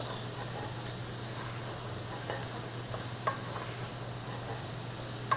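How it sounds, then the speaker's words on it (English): Onion and bacon sizzle in a hot pan, a soft continuous hiss and spit with a low hum underneath and a few sharp utensil clicks from stirring. "So we're going to keep stirring this, and you can see this is the hot part of our pan."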